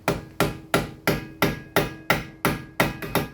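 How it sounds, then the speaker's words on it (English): Roughly nine sharp metallic hammer blows strike at a steady rhythm, close and alone, as a seal is driven into a brake component on a 2016 Honda Civic. "Smaller one in there and hammer it in."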